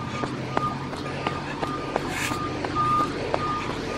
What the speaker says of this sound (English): there's a truck reversing here. One of the semi-trucks heading backwards into Mount Dock Market.